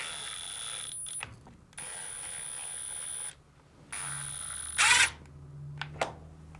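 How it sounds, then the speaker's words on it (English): Phillips mounting screws go back into a Samsung washing machine during a bleach dispenser replacement. Several separate bursts of close mechanical whirring are split by short pauses, ending in a louder burst and a few small clicks. "Now, reinstall the 3 Phillips mounting screws"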